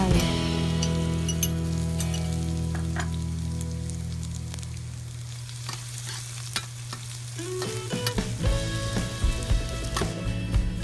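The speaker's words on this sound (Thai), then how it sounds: "เมื่อน้ำมันร้อน ใส่กระเทียมสับลงไป" Chopped garlic sizzles steadily in two tablespoons of hot oil while a utensil stirs and clinks against the pan, the frying crackle growing busier toward the end.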